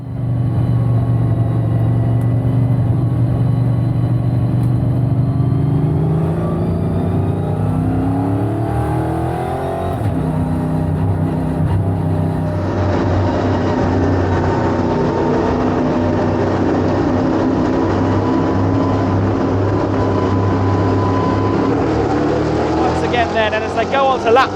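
EuroNASCAR stock cars race at Brands Hatch after a safety car restart, engines roaring loudly and continuously as they rev and pass, with a commentator talking over the racing.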